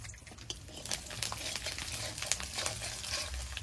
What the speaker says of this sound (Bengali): তেলের মধ্যে দেব গোটা রসুন